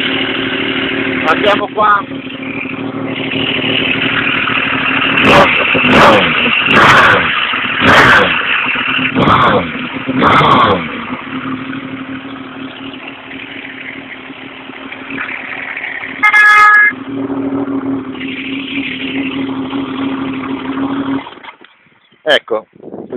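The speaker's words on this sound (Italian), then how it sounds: "abbiamo sentito il frastuono, il rombo di tuono di questa Benelli Tornado 1130" A Benelli Tornado 1130 motorcycle with a titanium exhaust runs loud and close, its engine giving a deep steady roar with several sharp bursts of revving near the middle. People talk over it throughout, and the engine cuts out at the end.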